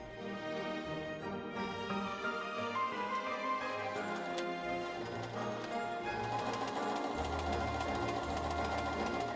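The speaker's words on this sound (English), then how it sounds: "reversing, pivoting and reinforcing the corner before stitching the short end" A sewing machine runs continuously as it stitches the waistband of a Victorian petticoat, reversing and pivoting at the corner, with a busy, rapid mechanical ticking heard up close.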